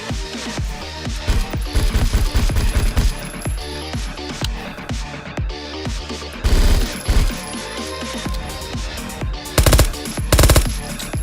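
Rapid bursts of automatic gunfire from the video game World of Guns, loud and close, come in clustered volleys separated by brief pauses, with no one speaking.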